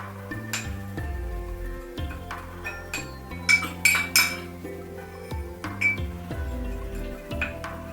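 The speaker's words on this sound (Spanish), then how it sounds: "Ya lo llenamos de arroz hasta que se llene todo la botella" Grains of rice rattle and clink against a glass bottle as it is filled, with steady bright tinkling and a few sharper clinks over a low musical background.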